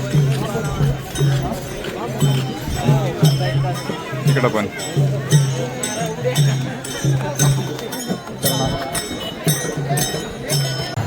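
A large crowd of Warkari pilgrims resting at Sangamwadi, with steady murmuring babble and shuffling. Someone talks close over it, and a rhythmic low drum-like thumping repeats throughout.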